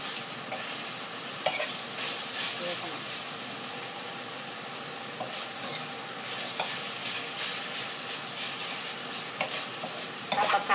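Pork stir-fries with tamarind chili paste in a hot pan, a bright steady sizzle and hiss punctuated by periodic spatula scrapes and taps against the pan, near and continuous.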